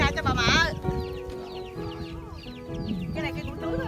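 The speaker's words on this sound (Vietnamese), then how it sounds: "bắt con gà cho bà mợ." Chickens cluck and squawk close by while one is being caught on a rural farm in southern Vietnam, with a loud agitated squawk at first and then repeated clucking amid background voices.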